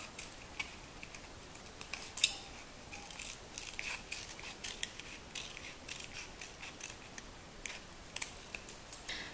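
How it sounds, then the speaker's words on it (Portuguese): Scissors snipping around a paper cone to round its edge for a craft box, a long series of small crisp cuts in an uneven rhythm, close and quiet with no talking. "Agora você vai pegar a tesoura e vai arredondar"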